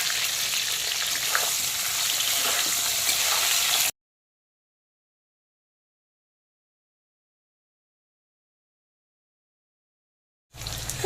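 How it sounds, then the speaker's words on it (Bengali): Green banana pieces fry lightly in oil already used for pointed gourd, potato and tangra fish, a dense close sizzle running for a few seconds, then total silence, then the bubbling hiss returns briefly at the end. "এখন আমি পটল আলু আর ট্যাংরা মাছ ভাজার তেলেই দিয়ে দেবো কাঁচকলা"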